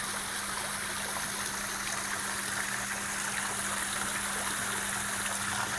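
Water sprays steadily from two small water pumps, a Kandila Maguro Remote Series R105 and a Yamano WP-105, running side by side: a continuous hissing, splashing rush over a low motor hum, alone without talk.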